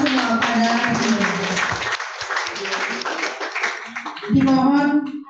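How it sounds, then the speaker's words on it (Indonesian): Audience applause fills a launch ceremony for a Madurese-Indonesian capital market dictionary, dense clapping sustained throughout, with an announcer's voice over it and a fresh swell near the end. "Dan kita beri tepuk tangan sekali lagi untuk kita semua pada hari ini."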